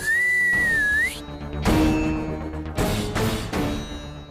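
A person whistles a single sustained, wavering high note, clear and close, which breaks off and gives way to bursts of other sounds.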